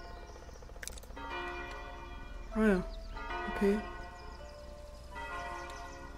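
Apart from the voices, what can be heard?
church bell in Foundation video game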